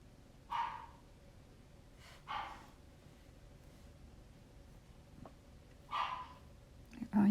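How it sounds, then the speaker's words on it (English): A small puppy gives a few short, separate yips spaced a couple of seconds apart, fairly faint and somewhat distant, with quiet breathy sounds between them. "Oh, you can hear our little puppy."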